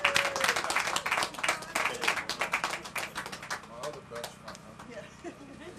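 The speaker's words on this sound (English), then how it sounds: "Please join me with a big round of applause for Mr. Johnson." A neighborhood association audience claps in a burst of applause at an afternoon event, loud and dense at first, then thinning and fading as a speaker begins talking.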